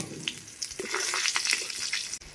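A green chili and a spoonful of nigella seeds crackle in hot oil left from frying eggplant, a brief, close, busy sizzle with sharp pops scattered through it.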